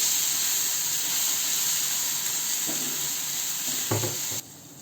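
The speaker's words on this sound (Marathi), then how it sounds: "त्यानंतर जिरं, इथं आपण वाटून घेतलेली मिरची गॅस बारीक करायचा आणि छान परतून घ्यायची ही मिरची" Green chili sautéing in hot oil with popped mustard seeds and cumin, a steady close sizzle and hiss with a few soft stirring scrapes near the end before it cuts quieter; no talking.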